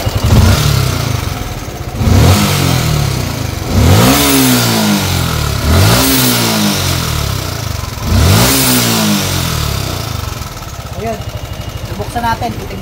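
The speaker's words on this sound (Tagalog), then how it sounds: "naririnig nyo yung impeller bearing. Yung water pump, tumisipol din." Yamaha Sniper 155 motorcycle engine revving in repeated bursts, rising and falling roughly every two seconds, with a thin whistling whine from the water pump impeller bearing running underneath.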